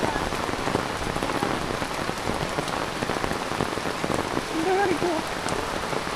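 Steady rain patters on a surface throughout, dense and even, with a faint voice briefly audible in the background.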